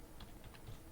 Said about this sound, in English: So I'm just typing some garbage there